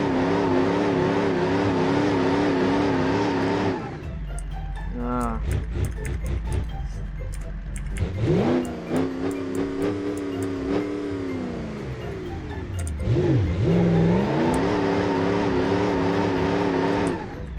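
An American pickup truck in the driving game BeamNG.drive, its engine droning loudly then revving up and down in rising and falling sweeps, with a voice talking over it.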